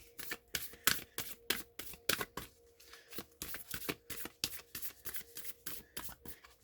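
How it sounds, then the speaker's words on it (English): An oracle card deck being shuffled and cards pulled, close and quiet, with a fast run of crisp riffling flicks and shuffles going on throughout, no voices. "so now I'm pulling from the Divine Masters card. Card deck."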